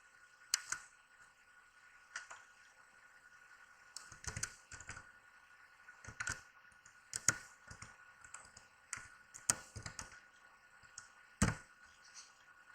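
Keystrokes on a computer keyboard come in irregular bursts of sharp, close clicks separated by short pauses, quiet and alone in a still room.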